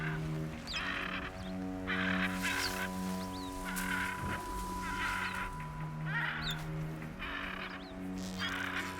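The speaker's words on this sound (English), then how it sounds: "I don't think these birds are okay." Artificial bird calls in the video game Horizon Zero Dawn repeat in bursts of chirps over a steady layered droning tone, moderately loud and continuous, with a brief swell around the middle.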